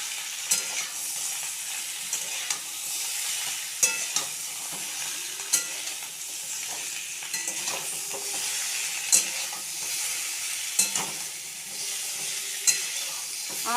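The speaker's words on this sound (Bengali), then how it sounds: "খুন্তি দিয়ে নাড়ব।" A spatula stirs vegetarian aloo dum with soft, slightly overcooked potatoes frying in a pan: a steady sizzle with irregular scraping strokes against the pan, close and moderately loud, with no talking.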